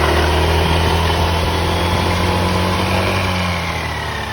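Honda PCX 160 scooter engine revving at half throttle, a steady loud mechanical drone held close by with a gentle rise in pitch and slight fade near the end, no voices.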